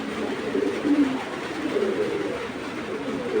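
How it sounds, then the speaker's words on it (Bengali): Pigeons of an old original tota breed coo softly in low, repeated throaty calls, fairly close, with faint background noise. "এই হলো অরিজিনাল পুরান জাতের তোতা কবুতর"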